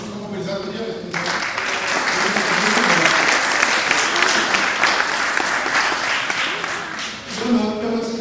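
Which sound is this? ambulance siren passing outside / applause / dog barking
applause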